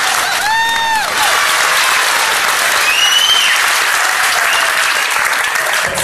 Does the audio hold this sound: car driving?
no